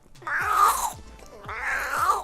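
Two drawn-out, nasal meow-like calls made by a beatboxer imitating a cat, close and fairly loud, with a short pause between them.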